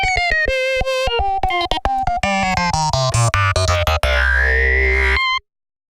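Funky Phase Plant synth lead runs through a formant filter and heavy OTT compression, a fast run of bright, plucky stabs sliding down into a sustained, gliding buzz that cuts off abruptly, loud and with no voices.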